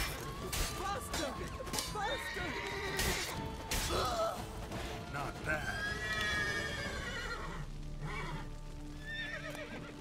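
Roach, the horse in The Witcher 3, gives repeated whinnies over hoof clops and scuffling game sounds, moderately loud and near.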